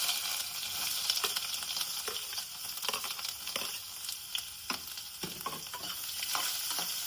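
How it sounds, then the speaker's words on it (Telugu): Ginger pieces fry in hot oil in a kadai, a continuous close crackling sizzle with repeated light scrapes of a spatula stirring them, no voices. "కొద్దిసేపు వేయించుకుందాము."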